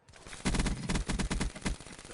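A PPSh submachine gun fires in a video game, rapid bursts of loud close shots in uneven clusters, with short gaps between them.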